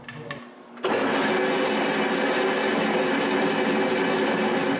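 A homemade wooden band saw starts up and runs steadily, a loud continuous whirring hum with mechanical buzz that holds even after a brief quieter moment at the start.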